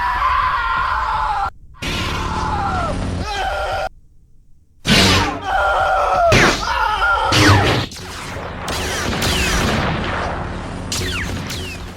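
Loud screams come in repeated bursts broken by abrupt silent gaps, with harsh, distorted shrieks and thumping hits close by.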